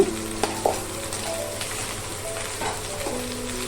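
Bitter gourd pieces with salt and turmeric are stirred in a hot pan, giving a steady close sizzle with a few sharp utensil clinks at the start.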